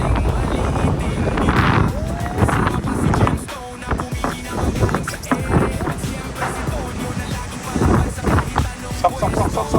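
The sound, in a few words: strong wind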